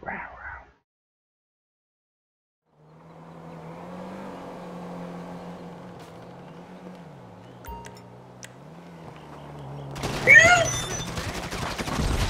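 Bursts of gunfire in the video game GTA V online mode crackle briefly near the end after a stretch of engine-like droning, with a few isolated sharp shots before; no clear speech over it.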